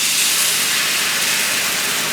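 Teriyaki stir-fry marinade hits a hot pan and sizzles with a steady, bright, close hiss that holds evenly throughout, with no talking.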